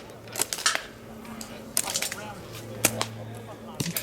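Catapult shots at a UK Catapult Association shoot in Andover: four sharp, snapping releases spaced about a second apart, crisp and fairly close, with people talking in the background.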